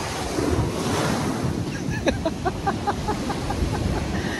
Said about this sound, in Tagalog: Napakalakas ng alon dito.